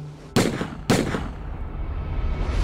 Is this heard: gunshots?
yes